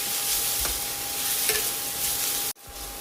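Onions softening in hot oil for a mutton stew give a steady sizzle with occasional spoon scrapes and a faint hum, then the sound cuts out briefly before resuming.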